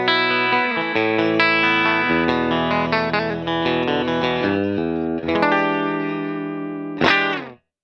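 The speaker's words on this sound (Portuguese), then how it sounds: "para vocês ouvirem só o som desse simulador de Fender" Electric guitar played through a Strymon Iridium pedal's Fender amp simulation, clean with no reverb, sustained chords and single notes ringing steadily and loud, ending with a final strummed chord that fades out.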